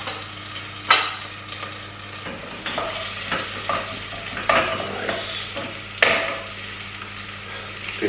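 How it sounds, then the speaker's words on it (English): Onion and garlic cooking in a pan, a soft continuous sizzle punctuated by several sharp spatula scrapes and stirs, close and clear with no talking. "cooking the onion and the garlic."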